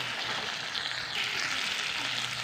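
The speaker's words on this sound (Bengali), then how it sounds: "আলুগুলো দিয়ে ভালো করে কষে নেবো।" Potatoes sautéing in egg curry masala in a pan, giving a soft, steady frying hiss with faint stirring movement, fairly quiet and with no speech.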